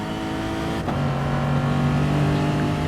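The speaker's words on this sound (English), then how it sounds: "wind it on, go, go, go, go, go. We're going up, building up speed." A race car engine in the Gran Turismo Sport video game winds up under acceleration, a loud steady rising whine that briefly dips at a gear change before building again.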